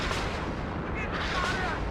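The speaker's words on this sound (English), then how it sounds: "That enemy artillery coming in onto my PSSE." Incoming enemy artillery fire striking in a war video game, a dense continuous rumble of blasts and impacts at steady loudness, with no clear separate shots.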